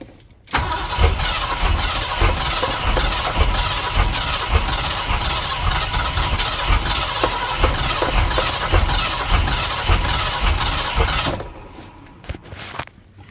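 Ford Turbo 351 V8 with a carburetor and MSD ignition box cranking hard for about eleven seconds, a loud steady churning starter rhythm that never catches, then cutting off to near silence.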